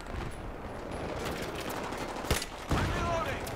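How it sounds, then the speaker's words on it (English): Battlefield 3 co-op mission gunfire, with machine gun bursts and scattered shots crackling through a dense, noisy battle ambience; a couple of sharper reports stand out near the end. "As sniping with a machine gun"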